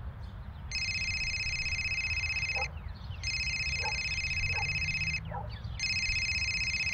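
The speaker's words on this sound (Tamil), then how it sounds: "ஃபோன் எடுத்து பேசு." A telephone rings in a repeated electronic trill, three long bursts separated by short gaps, loud and close over a low background rumble.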